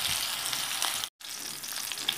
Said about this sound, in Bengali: এবার আমি এই ভাপানো বাঁধাকপির টুকরোগুলোকে এইভাবে একটু ভাজা করে নেব